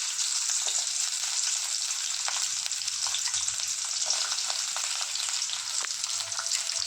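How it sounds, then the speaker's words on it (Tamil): Ivy gourd sautéing in hot oil in a kadai gives a steady, close, bright sizzle with a few soft scrapes of stirring mixed in, and no voices anywhere. "இப்போ நம்ம எடுத்து வச்ச கோவக்காவை நல்லா வதக்கிக்கணும்"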